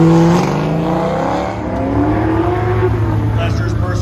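A 1972 Pontiac Firebird with a 5.7 liter LS1 V8 rolls up to a drag strip starting line, its engine a loud, steady burbling rumble with revs rising and falling, under an announcer's voice.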